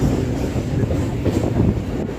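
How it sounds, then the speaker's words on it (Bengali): An Indian Railways Uttarbanga Express train passes on a rainy morning, a steady, moderately loud rumble of rolling wheels and carriages with faint rhythmic clatter. "ভারতীয় রেলে দেখুন উত্তরবঙ্গ এক্সপ্রেস"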